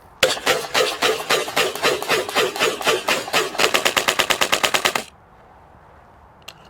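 VFC MK16-URGI 14.5 inch gas blowback airsoft rifle firing full auto, a loud close burst of rapid, even cracks for about five seconds, speeding up slightly near the end before stopping abruptly into quiet.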